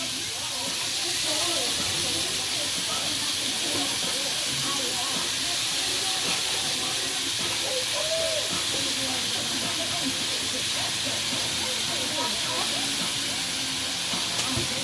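Tap water runs steadily over bean sprouts being washed for lumpia filling, a constant hissing rush through the whole stretch, while a voice talks faintly underneath.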